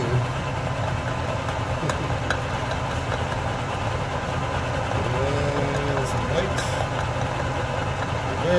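A lathe fitted with a milling attachment cuts a custom tool post nut, giving a steady mechanical hum and grinding whir throughout, with someone talking over the machine noise.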